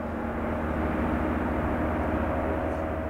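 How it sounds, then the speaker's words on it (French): An ultralight aircraft flies over a high mountain refuge in the Pyrenees, its engine droning steadily and loudly throughout with no pause. "un ULM survole le refuge"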